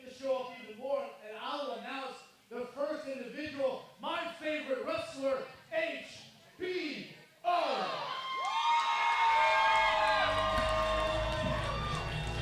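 Wrestling show crowd roaring and cheering into a loud sustained swell that builds under and after an announcer's sung voice.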